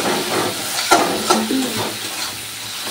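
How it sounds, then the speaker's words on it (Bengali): Spice paste with a little ground coriander stirring and frying in oil in a Bengali home kitchen: a steady close sizzle and hiss, with a few sharp clinks of a spoon against the pan partway through. "ভালো করে আমি মশলাটা কষিয়ে নেব যতক্ষণ না তেল ছেড়ে আসছে"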